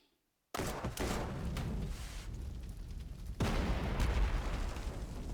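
Artillery fire in the WWII strategy video game Panzer Corps 2 erupts after a brief silence, a loud burst of booming blasts with a rumbling tail, then a second heavy volley a few seconds later.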